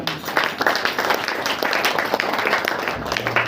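Brief burst of congregational clapping at a Saturday church prayer meeting, a steady patter of many hands filling the room with no words spoken over it.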